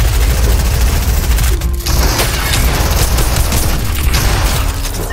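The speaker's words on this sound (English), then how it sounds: "shoot these guys though." Loud, dense bursts of video-game gunfire fill the mix almost continuously, rapid shots layered with booms in a chaotic battle during laptop gameplay of a J Balvin Cup match.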